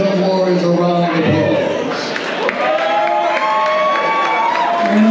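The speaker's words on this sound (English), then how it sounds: "Would you please give these young warriors a round of" A boxing crowd cheers and applauds for young boxers, a loud, dense roar of voices and clapping running steadily throughout with a sharp shout near the middle.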